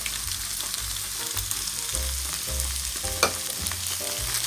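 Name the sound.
stirring ketchup into casserole mixture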